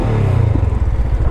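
Honda CB500F motorcycle with a slip-on exhaust accelerating hard on a highway, a loud, continuous engine drone with rising revs and steady low rumble throughout, no voices.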